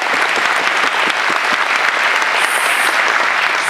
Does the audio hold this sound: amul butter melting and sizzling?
no